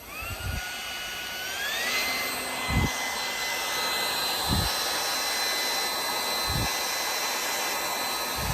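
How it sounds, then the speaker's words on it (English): A cordless dog grooming dryer blows a steady, loud rush of air, its motor pitch rising briefly near the start, with several soft low thumps recurring every couple of seconds underneath. "and we'll give the dryer a try."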